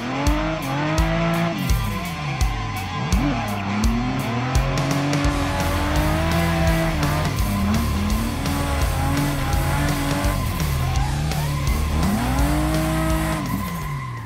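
A Toyota Cresta JZX100 drifts around a race circuit, its engine revving up and down loudly while the tires squeal continuously through long slides and repeated throttle bursts.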